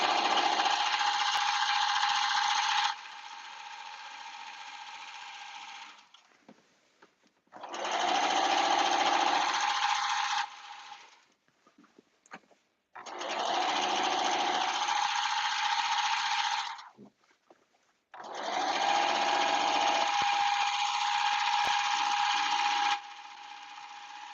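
Sewing machine stitching down the hem of a caftan in a home studio, running in four long, loud bursts with short quiet pauses between them and no talking.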